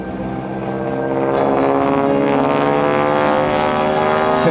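A Wardog warbird flies a loop at the 2006 MCAS Miramar airshow, its loud propeller engine droning continuously and swelling slightly as it rises in pitch and passes overhead.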